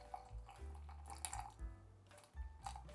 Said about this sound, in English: And I'll pour in like 50 mils.